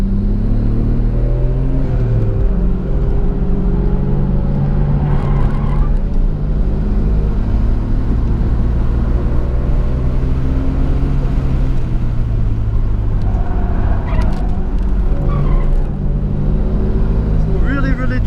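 A 1992 Nissan Skyline R32 GT-R driven on Suzuka Twin Circuit, its engine droning loud and close with rising and falling revs through gear changes, steady throughout with faint tyre and wind noise.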